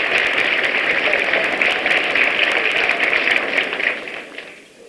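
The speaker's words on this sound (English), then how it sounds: "Give him a big round of applause." An audience gives sustained applause for Congressman Mike Honda at a Democratic National Committee gathering. The dense, steady clapping fills the space for about four seconds, then tapers off.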